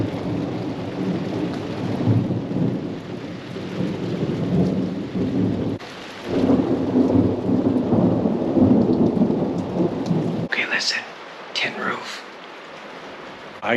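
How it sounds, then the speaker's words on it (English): Thunder rumbles and a steady rain falls during a storm, heard from a cabin porch. The deep rolling rumble swells in waves over constant rain patter, then the storm sound drops away near the end, leaving quieter dripping. "watch the rain fall, and listen to the thunder and lightning"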